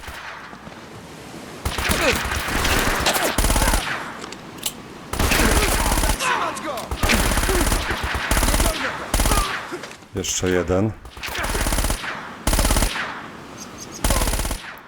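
Rapid bursts of automatic gunfire from the video game Uncharted 4: A Thief's End on PS4, loud and repeated in clusters, with brief gaps and a short spoken remark between volleys.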